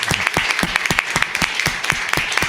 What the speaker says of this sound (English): a big applause to her,